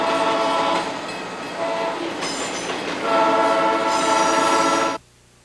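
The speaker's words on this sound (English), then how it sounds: "they can't stop this train quickly" A train rushes past with its horn blaring in long loud blasts over heavy rumbling and rattling, then the sound cuts off abruptly at the end.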